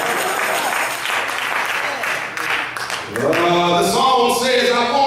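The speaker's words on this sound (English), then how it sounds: "Clap your hands for the first time and shout hallelujah" A church congregation claps along, a dense steady wash of hands that gives way after a few seconds to a swelling gospel song with voices and instruments over the continuing clapping.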